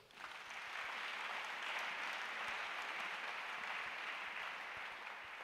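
A church congregation bursts into sustained, dense applause, a steady wash of clapping that stays loud and even for the whole stretch with no voices rising above it.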